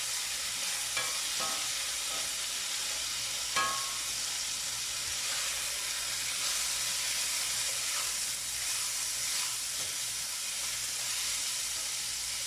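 Blackened beans sizzling and frying in a pan during vegetarian van-life cooking, with a steady hiss and occasional scraping stirs, heard up close without talk.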